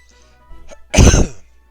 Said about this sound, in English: I just keep coughing.